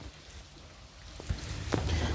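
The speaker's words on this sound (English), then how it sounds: "it seems like it's still raining a lot" Rain falls outdoors near a workshop where a Nissan 280ZX with an FJ20ET engine is being rewired, a steady hiss of drops on surfaces with a few louder splashes toward the end.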